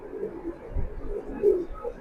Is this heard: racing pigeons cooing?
yes